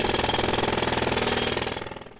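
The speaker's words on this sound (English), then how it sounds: "Cue the hammer." A jackhammer busts up rock at a street construction site at 18th and Sansom in Philadelphia, hammering in a fast, steady, loud rhythm close by before it winds down and fades.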